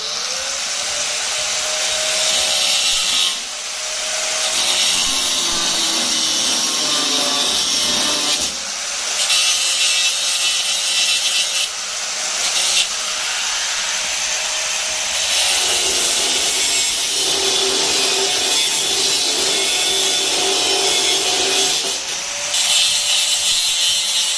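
A handheld grinder carving wood, loud and continuous with broadband abrasive whine, briefly dipping and surging in bursts as the tool lifts and bites again, no talking over it.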